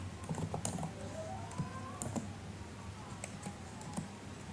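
Code typed on a computer keyboard during a programming lesson, soft scattered keystrokes with short pauses, faint against a low steady hum and no talking.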